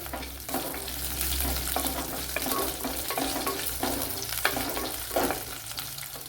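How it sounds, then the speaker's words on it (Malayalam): Dried red chillies, cut up, frying in oil in a pan during a pumpkin recipe, a steady close sizzle with occasional stirring scrapes, heard alone throughout. "ഇതിലേക്ക് രണ്ട് വറ്റൽമുളക് കട്ട് ചെയ്ത് ചേർത്ത് കൊടുക്കുക ഇനി മൂത്ത് വരണം"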